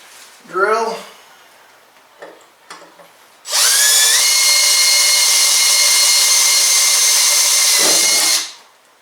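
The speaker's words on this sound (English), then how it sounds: "Drill." A short voice, then a few clicks, then an electric drill whines loudly and steadily for about five seconds, drilling a center-punched hole for a cab enclosure on an XP 1000, before stopping.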